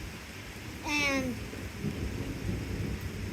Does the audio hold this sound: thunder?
yes